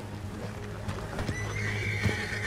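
Horses in Red Dead Redemption 2 whinny and neigh over a steady clip-clop of hooves, with a low hum running underneath and the sounds fairly close.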